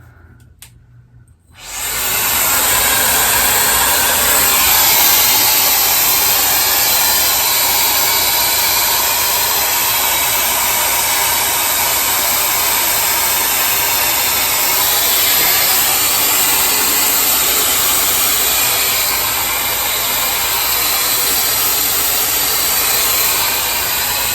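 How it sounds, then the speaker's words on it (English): An Amazon dupe of the Dyson Airwrap hair styler switches on after a couple of seconds of near silence, then blows a loud, steady rushing roar of air that holds constant to the end. "all you do to get that look is you just turn it on. You can set it for the speed and the temperature that you want"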